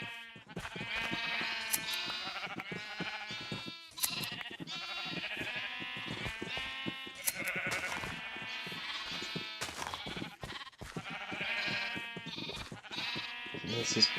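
Repeated sheep bleats from the video game Minecraft, Legacy Console Edition, overlapping in a dense flock chorus that continues steadily throughout at moderate loudness.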